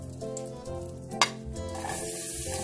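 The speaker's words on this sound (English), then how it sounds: "Mainit na yung ating kawali, maglalagay ko ng 2 tablespoons of butter. 1 tablespoon of olive oil." Butter and olive oil sizzle softly in a hot pan over low heat, a steady quiet crackle with a brief clink partway through and the frying growing slightly louder toward the end.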